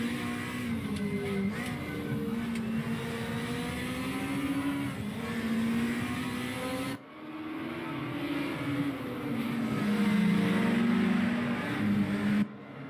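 BMW race cars accelerating around the Nordschleife in a racing video game, engines droning and rising in pitch as they pull through the gears, loud and steady with a short break in the middle.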